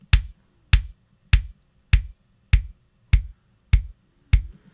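Kick drum beater under a narrow EQ boost, struck eight times at an even, steady pace, each hit a sharp, clicky attack with a short boomy tail and silence between.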